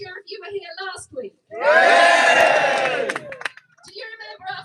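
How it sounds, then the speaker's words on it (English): A crowd at a town rally in Crowborough bursts into loud, sustained cheering and whooping that swells for about two seconds and then fades, with a single speaker's voice before and after it. "Give me a cheer if you were here last week."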